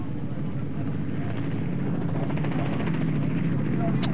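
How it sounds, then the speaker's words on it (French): A Robinson R44 helicopter trailing rally competitors flies overhead with a steady broadband rotor and engine drone, continuous and fairly loud for the whole stretch, with a voice talking over it. "Et un hélicoptère, là, le Robinson R44"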